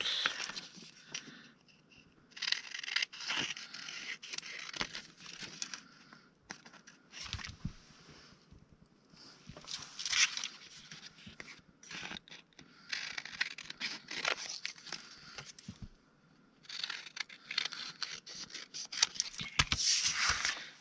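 Paper being cut out by hand for ephemera crafting, close crisp snipping and rustling in bursts separated by short quiet gaps, no speech.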